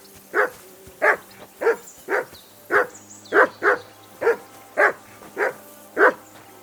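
A dog in Kingdom Come: Deliverance II barks about eleven times in a steady, evenly spaced rhythm, each bark sharp and close, alone with no voices over a low hum.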